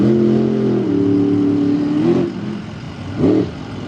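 A monster truck engine revs hard through a freestyle donut at the Bloomsburg, Pennsylvania fairgrounds, a loud sustained roar that dips and surges in pitch, with a sharp rev burst near the end.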